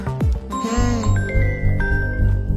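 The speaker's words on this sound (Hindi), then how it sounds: "देखो फोन तो आ गया उसका।" A melodic electronic ringtone chimes repeatedly, bright tones over a low rumble of background noise, loud and close.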